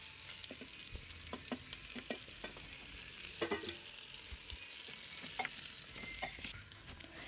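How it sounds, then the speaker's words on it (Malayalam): Fried chicken and onions are stirred in gravy for chicken biryani, giving repeated scraping spoon strokes over a continuous quiet sizzle, close by and without talk. "ഇനി നമുക്കിതെല്ലാം കൂടി നന്നായിട്ട് മിക്സ് ചെയ്ത് ഇളക്കി കൊടുക്കണം."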